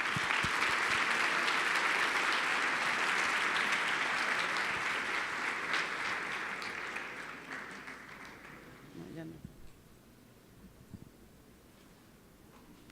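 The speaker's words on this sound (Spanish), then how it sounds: "Agradecemos con este aplauso al señor." Sustained audience applause fills the room at an event, loud and dense at first, then thinning and fading out toward the end, with a few scattered claps and near silence left in the final seconds.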